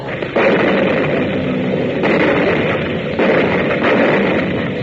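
Anti-aircraft gun fire in a wartime radio drama: a loud, continuous roar of gunfire with heavier bursts swelling at intervals, filling the whole stretch without pause.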